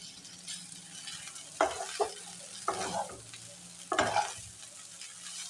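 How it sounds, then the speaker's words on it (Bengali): Boiled pasta is stirred into a pan of lightly fried onions and green chillies. A soft sizzle runs underneath while three or four distinct scraping stirs stand out near and clear. "পাস্তাগুলো আমি এখানে হালকা করে ভেজে নেব।"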